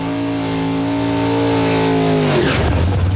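Drag racing cars at a quarter-mile nitro event roar loudly nearby, rising engine tones climbing steadily before breaking into a harsher, rougher blast as they pass.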